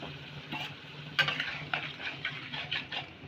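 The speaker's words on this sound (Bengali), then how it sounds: "এবার আমি এখানে একটু খালি জল দেব।" A little water splashed into a pan of cauliflower and peas frying for a vegetarian sabji raises a sudden sizzle, followed by quieter spitting and stirring scrapes close by.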